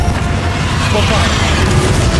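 The Bombarda spell explodes during a final battle in Hogwarts Legacy, a loud, dense, rumbling blast that fills the whole moment with booming, crackling noise.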